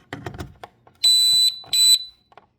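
A smoke alarm being tested at a beach house lets out two loud, piercing electronic beeps, the first about half a second long and the second slightly shorter, preceded by faint clicks and handling noise.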